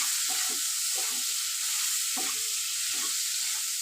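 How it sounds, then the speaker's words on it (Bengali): Turmeric powder and green chillies frying in a pan, a continuous hiss of sizzling oil with a few soft scrapes of stirring, no voices. "1 চামচ হলুদ গুঁড়ো দিয়ে দেবো, দুটো কাঁচা লঙ্কা দেবো, দিয়ে ভালো করে একটু ভেজে নেব।"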